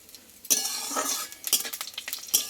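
Slit green chilies and curry leaves crackle in hot oil while a utensil stirs them, producing close scraping strokes over a bright sizzle that swells and settles in bursts.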